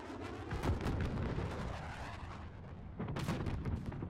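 Mortar and artillery fire in the Call of Duty: Modern Warfare campaign mission Highway of Death, heavy booming blasts rolling one into another with a fresh loud burst near the end.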